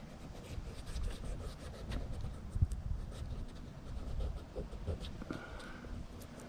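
A boot toe surface is roughed up by hand before a protector is applied, giving faint, close, irregular rubbing and scratching strokes with small clicks. No one speaks.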